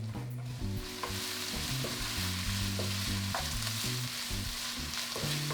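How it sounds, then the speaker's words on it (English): Onions sweating in a pan for a pork stew in white wine, a steady low sizzle with soft stirring scrapes running throughout, close and continuous with no voices. "We're going to sweat these onions and then add the garlic."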